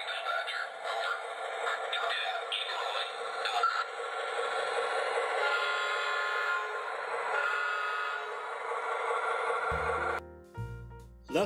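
A LionChief Plus model train pulls out on a layout with a steady mechanical whirring and rumble, closing with a short horn or whistle blast near the end.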